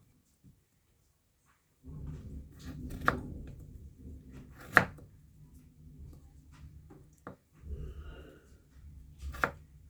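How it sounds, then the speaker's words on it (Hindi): Potatoes being chopped on a board in a home kitchen for pakoras, with a run of soft knife taps and a few sharper, louder chops, close and without talk. "ऐसे वाला काट लेती हूँ क्योंकि मुझे ऐसे वाले भी खाने हैं"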